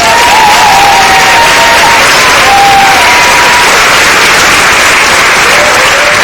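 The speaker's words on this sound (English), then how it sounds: "they're going to come out and give them a big round of applause" Loud, dense applause from a small-town festival pageant crowd for the queen coordinators and crew, continuous and close with faint cheering tones threading through the clapping.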